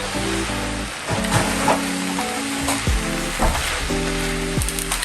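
Vinegar, soy sauce and hot sauce are stirred together while food fries, giving a loud, steady sizzle with scraping stirs and occasional clinks of a utensil against the pan.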